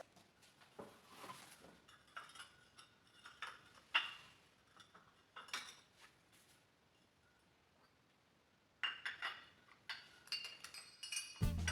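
Ceramic soup bowls, a large serving bowl with lid and stone spoons clink and tick as they are unpacked, bursts of sharp close knocks and chinks separated by quiet pauses.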